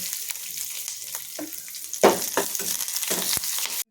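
Chillies, curry leaves and garlic sizzle in hot oil for a paddu chutney, a close, bright crackle broken by a few sharper bursts as the pan is stirred, stopping abruptly at the end with no talking.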